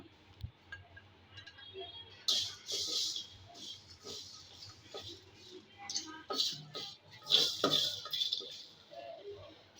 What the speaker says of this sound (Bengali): এখানে আছে ধনিয়া মেথি মরি আর শুকনো মরিচ এগুলো সব একটু বেজে নিব সামান্য